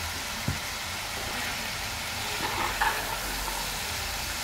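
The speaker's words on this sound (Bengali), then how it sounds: "এবার আমি আলুগুলো দিয়ে খুব জেন্টলি ভালো করে নাড়িয়ে নেব" Potatoes stirred gently in a pan with ginger garlic paste and spices, a steady hissing sizzle with a few soft spatula scrapes and clinks, close and continuous.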